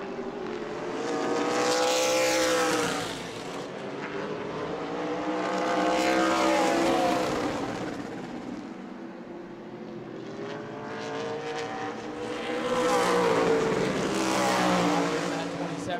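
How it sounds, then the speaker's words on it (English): Race cars at New Smyrna Speedway during a Sunbelt Series event roar past in loud, recurring waves, each engine note rising and falling as the pack sweeps by the microphone, with no talking over the engines. "May able to get on the gas and pull away and race into the advantage there."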